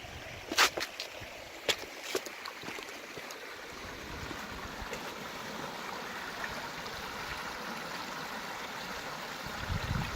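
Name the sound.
desert stream flowing from an oasis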